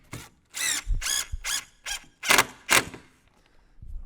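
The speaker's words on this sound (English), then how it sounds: "All I want to do when I run this screw in is just get it snug." Power drill driving a screw into an interior door frame, heard as about seven close, whining bursts of varying length with brief pauses between them, ending in a short final pulse.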